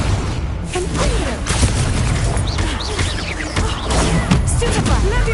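Confringo blasting spells in Hogwarts Legacy, a dense wash of booms and crackling blasts that runs continuously, loud and close, over game noise with a voice talking underneath.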